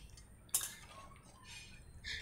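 A spoon clinks faintly against a pot while Bengali bata fish is stirred with mustard and eggplant: one bright metallic tap, then soft scraping, all quiet.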